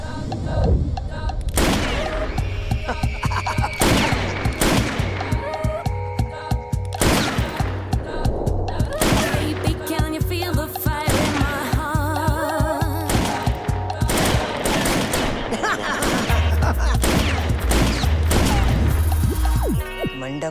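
Rapid gunfire bursts from a gun in a Hindi action film scene, repeated loud cracks running almost continuously under music and voices.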